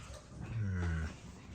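Dogs at a house in Tlapa, heard as a single nearby whimpering, growling vocalization that swells for about half a second and then fades, with no talk over it.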